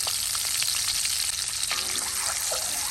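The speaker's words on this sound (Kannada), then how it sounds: "ಮೊಟ್ಟೆಯನ್ನು ಫ್ರೈ ಮಾಡುವಾಗ ಕಟ್ಸ್ ಹಾಕಿ ಫ್ರೈ ಮಾಡಬೇಕು" Eggs fry in a pan for an egg kheema masala, a dense steady sizzle and crackle close by with a faint watery hiss, no talk.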